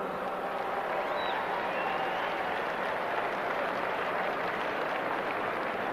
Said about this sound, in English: a big round of applause for the 1996 Project XL state champions